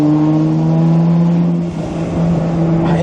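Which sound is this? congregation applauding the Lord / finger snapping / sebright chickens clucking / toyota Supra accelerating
toyota Supra accelerating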